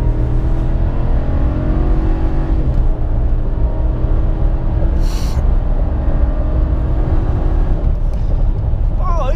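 A 2019 Hemi Ram truck accelerates hard on a quarter-mile drag strip. A loud, steady engine roar with rising revs fills the whole stretch, and a voice speaks briefly over it.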